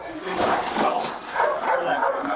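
A police canine barks and whimpers during a body-cam search of a home, with repeated yelping bursts over a raised voice speaking.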